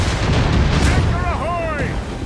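Naval cannon fire in Assassin's Creed Rogue booms loud and close in a dense, rumbling blast, and a shouted voice briefly cuts through the roar.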